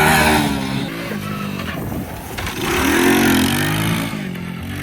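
A Honda three-wheeler engine is run hard close by during a wheelie. It revs loudly, dips briefly and then surges again in a rough, buzzing roar.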